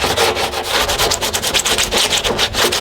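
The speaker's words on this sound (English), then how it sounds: "Then you take some sandpaper and get off all that excess plastic there." Sandpaper scrubs excess plastic off a workpiece in loud, rapid, close rasping strokes that run continuously without pause or voices.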